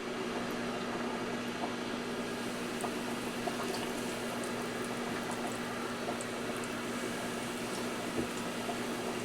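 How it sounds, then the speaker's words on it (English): Potatoes boil in a pot of water with a steady, even bubbling roll that runs unbroken throughout, over a low constant kitchen hum. "Potatoes are now boiling, so let those chooch for a little while."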